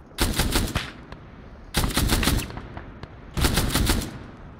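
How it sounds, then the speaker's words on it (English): Three sustained bursts of machine gun fire from the ArmA 3 video game, each lasting about a second with a short gap between, loud and close, with no voices. "Is there something shooting from the sky?"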